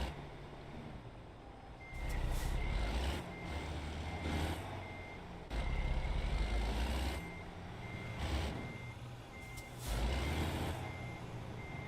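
A truck reverses in American Truck Simulator, sounding a steady series of evenly spaced electronic backup beeps over a low diesel engine rumble, with periodic surges and hissing bursts from air brakes.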